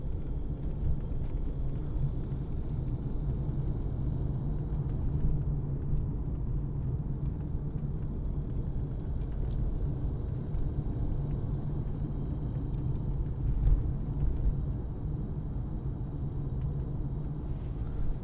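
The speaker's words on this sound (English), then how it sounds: "So lovely to drive, really nice car." A 2014 Mercedes-Benz C220 CDI BlueTEC diesel with G-Tronic automatic drives along a country road, heard from inside as a steady low engine and road rumble with no talking.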